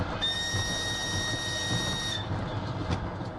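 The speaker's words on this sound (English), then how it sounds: "as the train moves out" A steam train whistle sounds as the train pulls out of a station carrying people east toward the fighting: a steady, multi-toned whistle holds for about two seconds over a constant low rumble of the moving train, then stops while the rumble continues.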